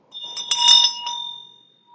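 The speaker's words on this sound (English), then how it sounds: "and I also have a bell" A single struck bell rings out once, clear and bright, its steady tone sustaining and slowly fading away to silence, heard alone in a quiet room.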